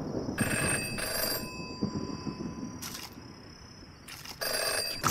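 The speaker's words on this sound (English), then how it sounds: "The phone box is ringing." A ringing phone box in the VR game Virtual Virtual Reality gives three bursts of bright, metallic bell trills separated by short gaps, set against a steady low ambient rumble with no talking.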